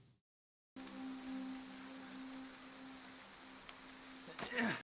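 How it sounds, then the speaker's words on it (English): Rain falls as a steady broadband hiss after a brief silence, with a faint tonal hum underneath and a louder burst near the end. "And it's raining."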